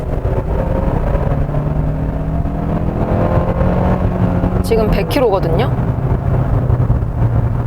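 Steady low rumble of road and wind noise inside a 2023 Hyundai Santa Fe cruising at about 100 km/h, with someone speaking over it and a brief passing whoosh.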